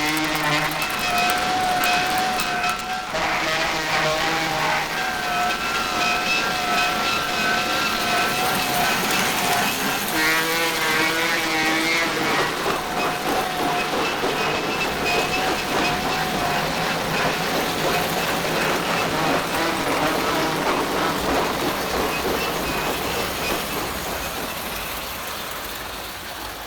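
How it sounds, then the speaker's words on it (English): A 1958 American Flyer Mainliner freight set toy train clatters along its track with steady mechanical rattling and whirring gears, continuous and fairly loud throughout. "at this time we are going to take this deluxe train for a spin"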